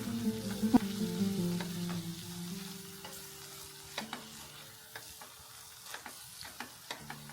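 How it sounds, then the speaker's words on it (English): A spatula stirs and scrapes mango pickle masala with fenugreek powder in a sizzling pan, a quiet steady fry under soft scattered scraping ticks, with no voices. "You can use a spatula to scrape the sides."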